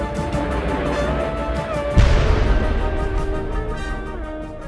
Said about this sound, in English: there's all these explosions and laser sound effects,